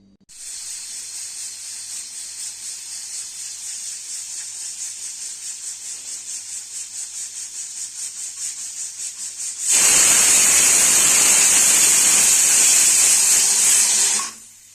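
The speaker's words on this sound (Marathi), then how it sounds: "आता ही धुवून कुकरला 3 शिट्ट्या करून घेऊया मस्तपैकी अशा." A pressure cooker on the stove cooking Indrayani rice lets out a pulsing, fluttering hiss of steam, then a much louder, sustained whistle that cuts off abruptly after a few seconds.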